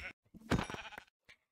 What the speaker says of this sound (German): Warte mal, warum sind hier so viele Schafe?